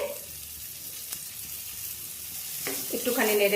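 Gobindobhog rice toasting in ghee in a pan gives a soft, steady sizzle with a few light scraping stirs, building slightly louder toward the end.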